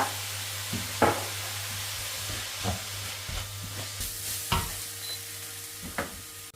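Onions sautéing in a pan with precooked salted chicken, a steady close sizzle and hiss with a low hum beneath, broken by several sharp stirring scrapes and clacks of a spoon against the pan.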